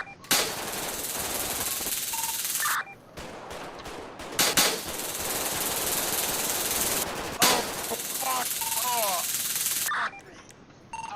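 Bursts of gunfire crackle in a FiveM GTA V roleplay game, several loud sustained volleys with brief gaps between them and some radio-like chatter in the pauses.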